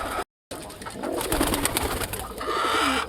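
Pet pigeons cooing near their squabs in a home coop, soft repeated throaty coos, close and fairly quiet, with no talk.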